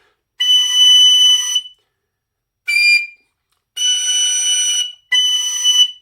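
A tin whistle sounds piercing third-register notes with top fork fingering, played as four separate blasts of a second or so, the second one short, with silence between them.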